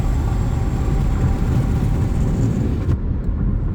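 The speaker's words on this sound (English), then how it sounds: "And you can hear the truck." A truck rumbles past on a three-lane highway, heard from inside a moving car as a loud, steady low roar of engine and road noise that cuts off abruptly near the end.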